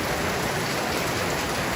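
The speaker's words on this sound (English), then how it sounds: "the rain is just coming down" Heavy summer rainstorm in Australia, a steady, dense hiss of rain pouring down close by, continuous and loud with no voices.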